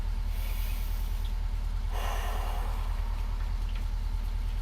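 Deep breathing during an outdoor stretching routine in the rain: one long, forceful, close exhalation swells in the middle over a constant wash of background noise.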